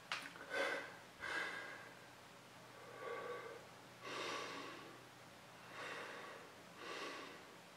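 A person breathing again after holding their breath, drawing a series of deep, audible breaths in and out at a slow, even pace, close to the microphone with no speech.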